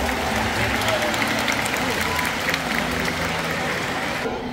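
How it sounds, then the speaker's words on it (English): Audience applause fills the stands at a SeaWorld San Antonio killer whale show, a dense, steady wash of clapping from a large crowd with faint voices mixed in, fading slightly at the end. "let's give a round of applause to our audience volunteers"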